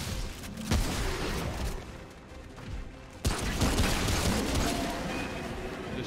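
Shotgun blasts in the video game Remnant From The Ashes during a boss fight, two heavy booming shots a few seconds apart over dense, noisy combat ambience.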